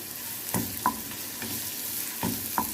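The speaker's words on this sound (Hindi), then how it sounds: "मैं फ्राई कर रही हूँ" Chopped garlic and ginger fry in a hot pan with a soft continuous sizzle, broken by a few sharp scrapes and clinks as the pieces are stirred, close up and without speech.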